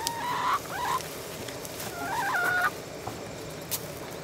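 A chicken in a late-summer garden at Niagara-on-the-Lake gives two drawn-out warbling clucks close by, each lasting about half a second, against quiet outdoor background.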